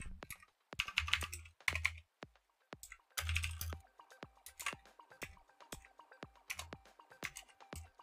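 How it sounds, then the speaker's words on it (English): Keys clatter on a computer keyboard in irregular bursts of close, crisp clicks with short pauses between them, alone without talk. "typing in public is horrible"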